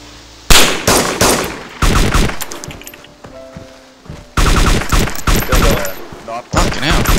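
Rapid video game gunfire rattles in loud bursts of automatic fire, near and harsh, dropping to a brief lull before erupting again.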